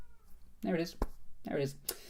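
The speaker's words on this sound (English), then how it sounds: "Also, you can hear a cat meowing." A cat meows just outside a door, two distinct meows about a second apart, close and clear, with a short spoken phrase between them.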